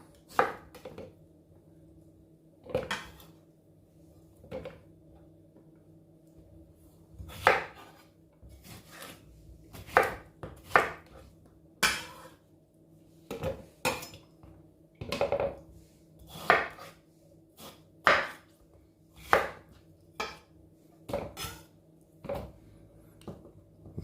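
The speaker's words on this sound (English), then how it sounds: "I'm going to cut these up." Rhythmic knife strokes chop food ingredients such as pineapple on a cutting board, with roughly twenty sharp, close cuts in an uneven steady pattern over a low background hum.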